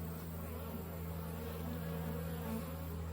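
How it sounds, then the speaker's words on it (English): Honey bees buzz in an opened Langstroth hive during an inspection, a steady, dense, low hum of many bees close by, unbroken and fairly faint, with no talk. "It's about a little over half the frames are covered with bees"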